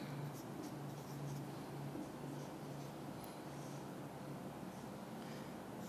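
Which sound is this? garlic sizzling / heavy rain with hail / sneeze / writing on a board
writing on a board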